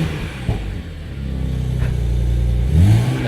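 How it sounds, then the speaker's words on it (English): A BMW Z4 35is engine revs up from idle, rising and swelling loudly to a peak near the end, with the exhaust giving off a few pops. "If we just give it a little rev"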